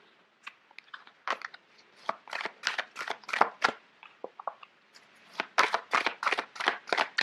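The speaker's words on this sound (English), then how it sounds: "Sorry, these cards are quite big." Large tarot cards being shuffled by hand, a run of crisp riffling and slapping bursts in uneven clusters, close and moderately quiet, with no voice.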